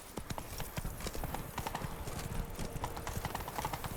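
Hooves of Roach, the horse in The Witcher video game, clip-clop in a quick steady trotting rhythm, close and continuous over ambient game sound.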